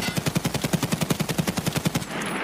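An unsuppressed SA-58 rifle fired standing in Escape from Tarkov, a loud rapid burst of about twenty evenly spaced sharp shots lasting two seconds, then a lingering echoing tail.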